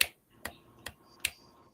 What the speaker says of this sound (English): in order to not interrupt the poet, the speaker, you snap